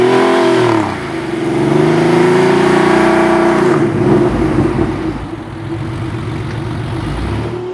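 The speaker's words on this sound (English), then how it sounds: "a start with one wheel on the grass and one on the road, and again seeing if the wheel speeds are the same" A C2-converted Porsche 964 pulls away from a start with one wheel on grass and one on the road, its engine revving loudly and close, then dropping in pitch as it shifts and settles.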